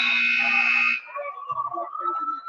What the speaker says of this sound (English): McNamara, Slatt at the buzzer.